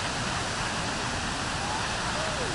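Düden waterfall in Antalya, Turkey pours over rocks in a constant, dense roar of rushing water, loud and close, with no break throughout.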